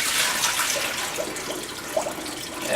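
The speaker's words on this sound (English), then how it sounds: "You can initially pour in some water" Water poured into the hopper of a Presidential soft-serve machine (model S110/S230/S520/S970) during cleaning, a steady close splashing and gurgling flow that runs on without pause and with no talk.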